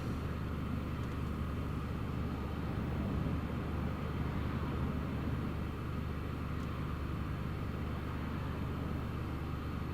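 An EasyJet airliner departs Newcastle Airport for Bristol during Storm Eowyn, a steady, broad jet roar that holds loud and even throughout under heavy wind noise, with no talk.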